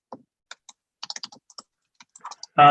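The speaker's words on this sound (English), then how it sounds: "Oops, sorry, I'm typing on the wrong document." Scattered keystrokes on a computer keyboard during a board workshop meeting, irregular clicks over a few seconds ending in a louder burst of noise.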